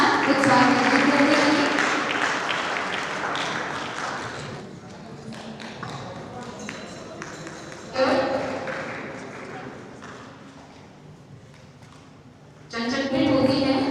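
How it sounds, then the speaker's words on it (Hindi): Audience applause at a women's college award ceremony, a dense burst of clapping that swells, fades under a voice, then returns loudly twice. "तालियों की गड़गड़ाहट के साथ उत्साह करते हैं।"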